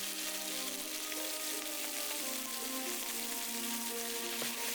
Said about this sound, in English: And then the second half of the marinated meat goes in. Spread it out. Allow it to sear.